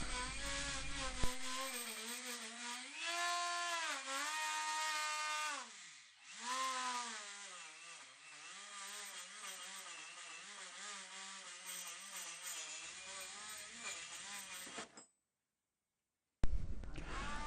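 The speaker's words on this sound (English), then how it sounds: "I put a wire brush in my little Dremel and with a bit of effort got rid of the powder coat" Small Dremel rotary tool spinning a wire brush against powder-coated brake calipers, a loud steady high-pitched whine with pitch dipping under load for most of the run, then a brief silence before it starts again.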